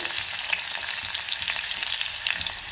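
Green chili, curry leaves and crushed garlic sizzle and fry in hot oil in a home kitchen, a steady, close crackling hiss with bright spitting pops throughout, no voices.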